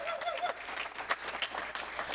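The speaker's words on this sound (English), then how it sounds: "a huge round of applause to Groundworks" A town hall meeting crowd gives a round of applause, a soft, distant and fairly thin clapping that goes on steadily without a break.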